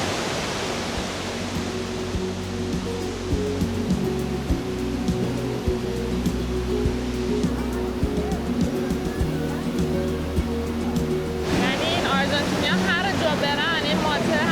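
Iguazu Falls on the Argentine side roars as a steady, dense rush of falling water close by, loud and continuous, with a brighter splashing hiss rising near the end and occasional voices under it.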